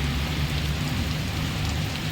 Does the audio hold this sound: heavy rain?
yes